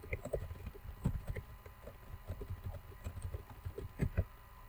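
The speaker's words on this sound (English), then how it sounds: "I can type in these students' names. I can type in a message" Keys tapped on a computer keyboard while typing names and a short message, faint irregular clicks in uneven bursts against a quiet room, no voices.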